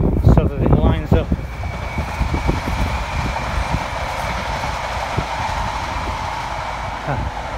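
A train rolling past, a loud rumbling wash with a quick burst of clattering at the start that settles into a steady fading roar. A voice is heard early on.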